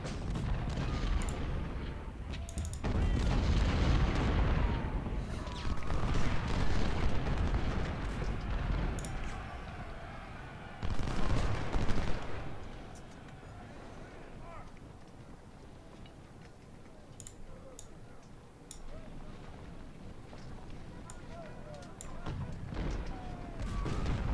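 Cannon and artillery fire in a Civil War battle game, heavy booms rolling at a distance, with a louder burst in the middle, amid a busy rumbling battlefield backdrop.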